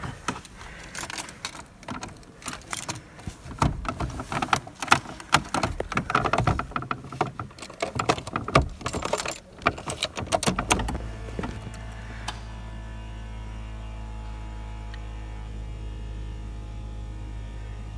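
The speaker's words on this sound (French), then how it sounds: "on entend la pompe ABS qui charge" The ABS pump of a Ford Scorpio 2.0i GL runs and charges after a stretch of clattering and jangling noise, settling into a steady low electric hum that continues to the end.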